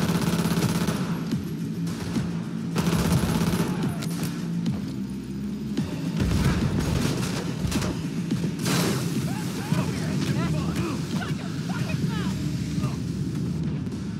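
Rapid bursts of automatic gunfire rattle through a shootout in Cyberpunk 2077, loud and dense, mixed with booms and a throbbing game soundtrack over the whole stretch.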